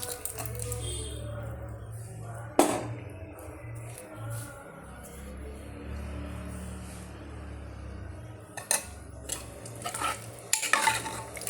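A paste of coconut, garlic and cumin being stirred into a Kerala erissery curry, soft wet stirring with occasional spoon knocks against the pot, close and low in level, no one talking.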